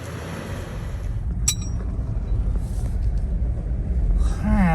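Lifted Toyota 4Runner on 35-inch tires with Dobinson's long travel suspension on its first test drive: a steady low rumble of road and drivetrain noise that holds constant and swells slightly toward the end.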